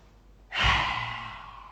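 A single deep breath during a qi gong morning session, a soft intake swelling into a long, loud airy exhale heard up close on its own.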